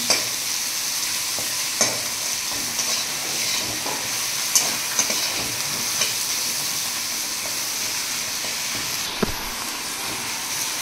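Continuous loud sizzling of garlic paste and spices frying in hot oil for a fish roe curry, with occasional clicks and scrapes of stirring in the pan.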